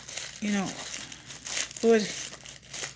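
Crisp gift tissue paper crinkling and rustling close by while making tissue flowers, with a voice talking over it in short bursts.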